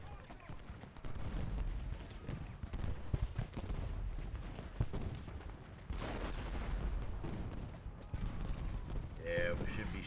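Battlefield gunfire and artillery from the Civil War strategy game Ultimate General: Gettysburg, a dense, continuous din of volleys and booms with scattered sharp reports throughout, loud and sustained with no clear voices.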